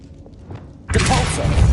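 A spell cast in Hogwarts Legacy erupts after a quiet start, a sudden loud magical burst with a whooshing, rumbling body that sustains to the end.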